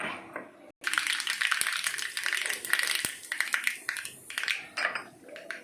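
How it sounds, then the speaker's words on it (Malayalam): Mustard seeds crackle and pop in hot coconut oil, a dense run of sharp little snaps and spits that keeps going steadily, close and fairly loud, with no talking over it. "കടുക് പൊട്ടട്ടെ."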